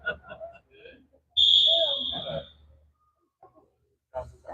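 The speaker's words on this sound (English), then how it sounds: "That whistle means it's time to start shooting." A single sharp whistle blast at an outdoor archery tournament signals the start of shooting, sounding loud and close for about a second amid nearby talk and murmuring.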